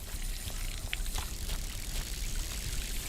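Loud continuous water splashing and trickling from the fishing sound effect in the game We Harvest Shadows, a dense watery pour with a short bright plink near the start, no voices.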